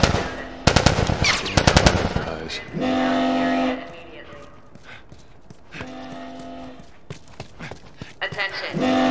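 Machine gun fire in The Last of Us, heard as rapid bursts of shots amid the noise of a game scene, with voices shouting over parts of it.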